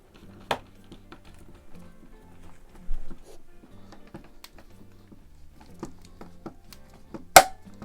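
A sharp click rings out near the end after quiet ratcheting and small tapping sounds, an adjustable VDE torque screwdriver reaching its set value up close.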